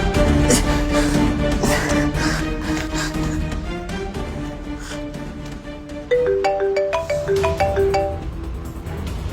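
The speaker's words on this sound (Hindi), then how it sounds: "भैया के पास फोन करता हूँ और उनको बताता हूँ" A phone rings with a stepped melodic ringtone that comes in partway through, playing over steady background music.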